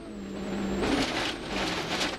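A rally car's engine roars at full throttle on a gravel stage of Rally Jordan, revving hard as gravel sprays and hisses beneath it, loud and close.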